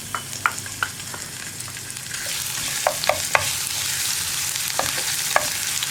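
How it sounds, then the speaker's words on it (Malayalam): Crushed ginger fries in hot oil for an egg roast while a spoon stirs the pan, with sharp scraping clicks at an uneven rhythm over a steady, moderate sizzle that grows fuller midway, and no talking. "ഇതൊന്ന് ഇളക്കി ചൂടായി വരുമ്പോൾ നമ്മൾ ചതച്ച് വെച്ചിരിക്കുന്ന ഇഞ്ചി ചേർക്കാം."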